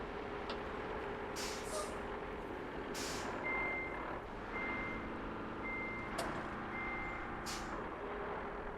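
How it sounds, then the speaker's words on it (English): Trucks idle and rumble steadily in the Roadcraft video game at a sand quarry, while a reversing alarm beeps in a regular, evenly spaced rhythm over the engine drone, with a few brief hisses along the way. "Those trucks are still running."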